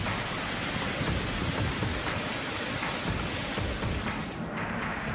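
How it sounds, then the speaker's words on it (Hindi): Torrential monsoon rain pours steadily in Maharashtra, India, a dense continuous roar of water with low rumbling thunder underneath, loud and unbroken, no voices. "मूसलाधार बारिश"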